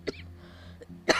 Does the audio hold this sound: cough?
yes